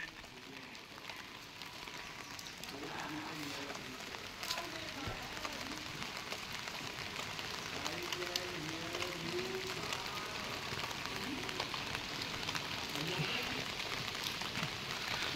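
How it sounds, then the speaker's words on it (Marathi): Heavy monsoon rain pours down in a rural village, producing a steady, broad hiss of drops on surfaces with faint voices murmuring underneath. "पाऊस भरपूर आहे आता"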